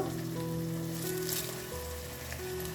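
Capsicum, green peas, curry leaves, roasted peanuts and roasted gram fry in oil over a high flame, giving a steady, even sizzle with faint steady tones humming beneath it.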